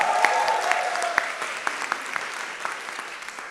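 Audience applause for a team at the German-Brazilian EdTech Hackathon 2024 final presentations, steady crowd clapping with a few sharper individual claps standing out, moderately distant throughout.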